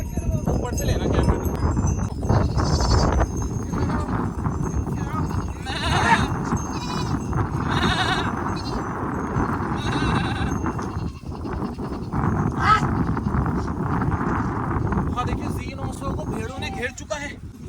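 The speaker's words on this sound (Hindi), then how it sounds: "भेड़ों का आक्रमण हो चुका है Z900 के ऊपर। Z900 के पीछे से भेड़े जाते हुए।" A flock of sheep streams past a Kawasaki Z900 motorcycle on a Himalayan valley trail in Uttarakhand, bleating repeatedly and close by over steady rushing background noise, with people talking.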